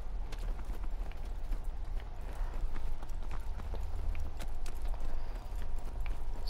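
Horse galloping in Call of Duty WW2, rapid rhythmic hoof clops pounding continuously over a low rumble of battlefield ambience for several seconds.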